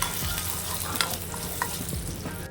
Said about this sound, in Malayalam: കുറച്ച് കാഷ്നട്ടും കൂട്ടി ഇട്ടിട്ട് നന്നായിട്ട് ഫ്രൈ ആവണമെന്നില്ല ഒന്ന് ചൂടായാൽ മതി കൊല്ലമുളകും കൂടിയിട്ട് നന്നായിട്ട് ഇളക്കി